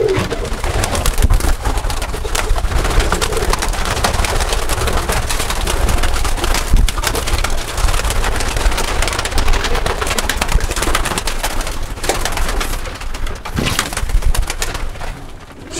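Pigeons in a loft coo softly amid a dense, busy wash of fluttering wings and rustling, a steady close flock sound with occasional louder flaps breaking through.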